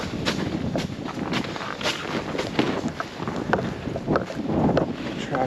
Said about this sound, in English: is just whipping through this tunnel right here. It's cold. It's very cold. Very cold wind.